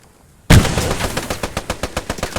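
A Bren light machine gun fires in the World War II game Post Scriptum, opening with a loud crack and then a steady burst of about a dozen evenly spaced rounds at close range. No voices are heard over the shots.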